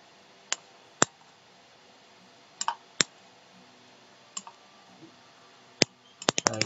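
Computer keyboard keys pressed while working in MS Word, heard as sparse, isolated crisp clicks spaced a second or more apart, ending in a quick cluster of taps.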